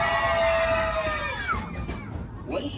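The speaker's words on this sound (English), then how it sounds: "Car 3, let's hear you scream." A carload of passengers on a steam excursion train screams loudly together in a crowd contest, a sustained chorus of high shrieks that fades out near the end.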